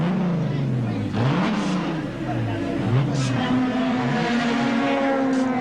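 A six-cylinder class touring car at the 1981 Bathurst 1000 pulls away from a pit stop, engine rising and falling through gear changes, loud and continuous beneath commentary and crowd murmur.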